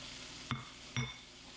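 Pork, tomatoes, green peppers and onion hit a hot pan, with two sharp clinking scrapes of a utensil against the pan over a steady low sizzle.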